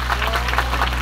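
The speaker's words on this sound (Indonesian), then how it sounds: "Saestu tepuk tangan dulu kangge panitia yang begitu luar biasa" Live audience at a school event at SMK Karangdoro applauding the organizers, a dense steady wash of clapping across the whole moment with a low constant hum underneath and faint crowd noise.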